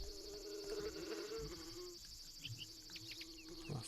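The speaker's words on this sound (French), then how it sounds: "comme tous les jours, on va aller titiller les abeilles" Steady insect buzz from a bee nest in the PSP game Boku no Natsuyasumi, a continuous faint drone with high insect chirps and a few brief bird-like calls, no speech.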